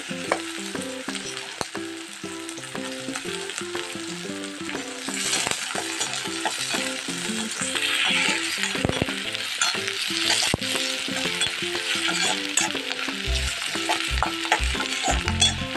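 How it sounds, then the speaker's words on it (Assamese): Chopped onions, dried red chillies and a bay leaf fry in a pan, a steady close sizzle with stirring scrapes throughout, rising a little louder midway, with no talking. "ইয়াতে পিঁয়াজখিনি দি দিছোঁ, কাটি থোৱা পিঁয়াজখিনি।"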